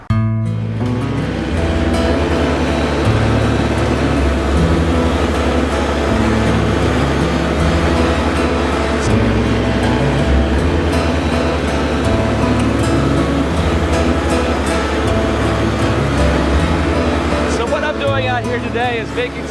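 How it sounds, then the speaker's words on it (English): A Kubota MX5200 tractor drags a Woods 96-inch landscape rake across a field of rocks and corn stubble, a loud continuous diesel rumble with scraping and rattling throughout, as someone talks over it. "Today I'm out with a Kubota MX 5200 and a Woods 96-inch landscape rake."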